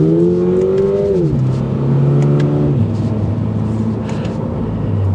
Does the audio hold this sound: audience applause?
no